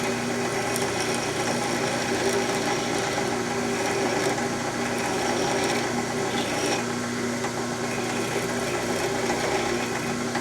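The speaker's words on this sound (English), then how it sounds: "taking a triangular and or square file, and we're going to take the factory lugs or burrs off" A triangular file scrapes against a spinning pinewood derby axle nail, a steady close whir of the motor with a rough metallic rasp running continuously.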